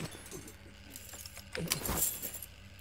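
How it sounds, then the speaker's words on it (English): Keys jangle briefly in the prison section of the video game F.I.S.T.: Forged In Shadow Torch, a light metallic clinking burst around the middle of the clip over a low game ambience. "And the keys, darling."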